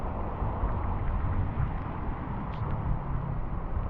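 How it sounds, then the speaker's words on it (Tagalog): Strong typhoon winds of Typhoon Ulysses roar continuously and loudly right at the microphone, a dense buffeting rumble with no pauses, while roofing sheets are torn loose nearby. "lupit ng bagyo lakas ng bagyo dito sa amin"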